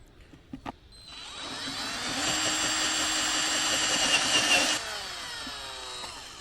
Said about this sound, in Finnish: Siinä puolessa välissä on 22 millisen merkki, niin porataan siihen saakka.